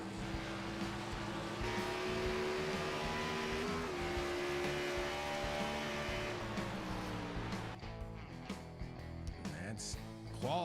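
Race car engine at full throttle during qualifying at Watkins Glen, a loud sustained roar with shifting pitch, one gear change around the middle and a drop toward the end, with faint crowd or commentary beneath.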